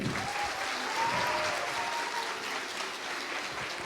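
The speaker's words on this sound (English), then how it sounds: "A round of applause for her." An audience at a literary festival in Bhutan applauds actress Tara Sutaria with steady, dense clapping that holds for about four seconds, with no talking over it.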